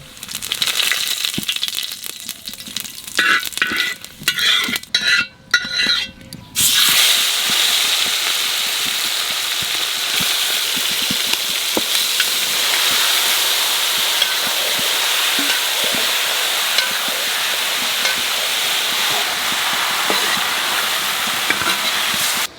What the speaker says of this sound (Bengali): তেলের পর দিয়ে দেবো তেলের পর দেবো জিরা